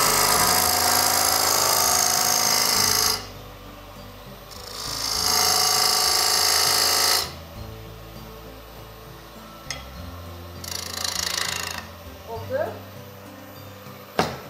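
Turning a tenon on a wooden box body, the lathe tool gives rough, loud scraping bursts that stop and start in long stretches, with quieter gaps of handling noise between them.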